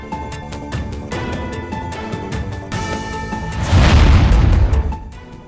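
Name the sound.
large explosions near Srinagar airport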